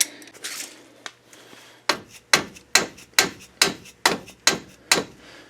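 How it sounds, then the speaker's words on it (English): A hammer strikes a steel breaker bar eight or nine times in a steady rhythm to loosen a ball joint nut on a 1998 Subaru Outback, sharp metallic clanks close and loud after a few lighter taps. "Hitting the breaker bar with the hammer helped get it loose."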